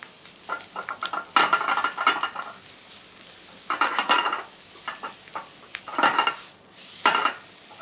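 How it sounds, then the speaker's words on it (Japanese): Pieces of hollowed-out campagne bread fry in a pan with ham, sizzling softly while bursts of stirring and utensil scraping come and go in several short, clattering spells. "ここでちょっとカリッと焼いた方が美味しく揚がると思います。"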